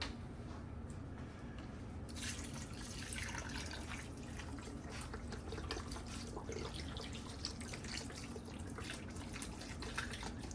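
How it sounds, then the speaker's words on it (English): Chicken stock from a box and a cup of water pour into a pot of oxtails, a steady soft liquid rush running throughout, fairly quiet, with no talk. "we are going to add a whole box of chicken stock along with a cup of water"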